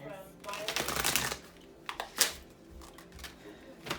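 A deck of tarot cards is shuffled by hand in a series of papery riffles and flutters, loud and close, with a person talking over parts of it.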